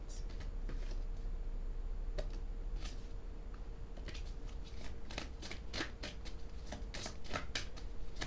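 A deck of cards is shuffled and handled close by, with crisp flicking riffles and sharp snaps that grow denser toward the end, over a soft steady background hum.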